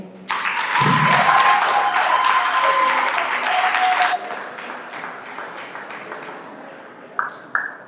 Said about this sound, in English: Let's give them a resounding round of applause for the first presentation.